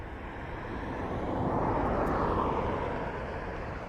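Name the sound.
Ryanair airplane flying near airport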